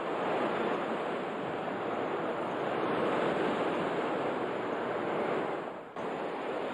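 Raging wind of Super Typhoon Megi roars as a loud, steady wall of rushing noise, unbroken for several seconds with a brief dip near the end.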